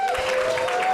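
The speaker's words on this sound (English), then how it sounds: "Give him a round of applause." Steady applause from an audience at a Dear Fathers gathering in St. Louis, a dense wash of clapping filling the whole moment at a constant level, with a faint sustained tone running underneath.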